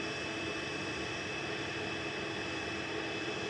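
Distant, steady jet roar from a Jet2 Boeing 737-800 departing Manchester Airport, a faint, even broadband rumble with no voices over it.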